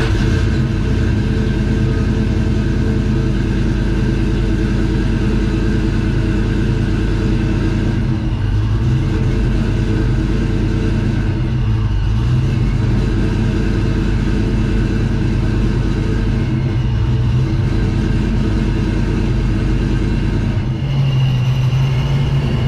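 A Ford Mustang Foxbody's engine idles after a cold start following months of storage, a loud, steady, close rumble whose idle surges up and down a little.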